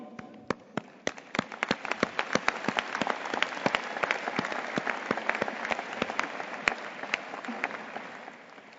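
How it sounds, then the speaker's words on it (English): Graduation audience at a university graduate commencement applauding the graduates, a steady wash of many hands with sharp individual claps standing out, moderately distant and continuous throughout. "we join your family and friends in applauding you"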